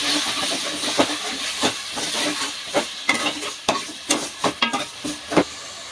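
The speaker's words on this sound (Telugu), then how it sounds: "మొత్తం కలుపుకోవాలి." A Telugu fish curry mixture with tomatoes and salt is stirred in a pan, giving a steady sizzling hiss broken by a series of scraping, clattering stirring strokes close by, with no voices.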